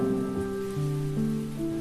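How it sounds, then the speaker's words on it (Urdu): Steady rain falls beyond a window glass outside a room at home, a soft continuous patter beneath sustained, gently shifting musical tones. "گھر کے کمرے سے شیشے کے پیچھے بارش کی بوندوں کو محسوس کیجیے"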